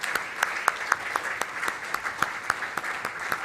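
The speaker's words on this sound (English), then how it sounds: "please let's have one more huge collective round of applause for all the champions" Audience applause at a sports awards ceremony in India, steady clapping from a crowd with sharper individual claps standing out in a fairly even rhythm, close and sustained throughout.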